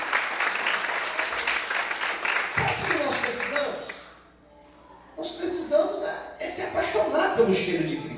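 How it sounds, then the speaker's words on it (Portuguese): Church congregation applauding, sustained loud clapping that drops away into a brief lull about halfway, then resumes with voices and cheers mixed in. "Quantos podem aplaudir e glorificar ao Senhor?"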